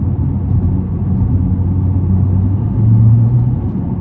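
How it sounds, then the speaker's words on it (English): A 2009 Nissan GT-R cruising as its transmission downshifts automatically, a steady low engine rumble with a slight rise in pitch and loudness near the end, heard from inside the car with no talking. "we'll just let it downshift on its own here"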